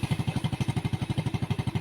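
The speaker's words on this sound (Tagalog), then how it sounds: "Okay, umaandar po yung makina." A motorcycle engine idles close by with a steady, rapid rhythmic putter, running evenly on its own before the battery is disconnected.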